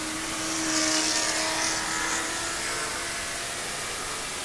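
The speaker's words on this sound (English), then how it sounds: "These are some fast race cars." Fast race cars at Sebring scream past on the back straight, a loud, sustained engine roar that swells and fades as they pass in the distance.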